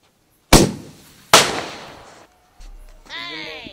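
Two sharp, loud Diwali firecracker bursts less than a second apart, each with a fading echo, followed by a low rumble and then a fizzing, whistling sound.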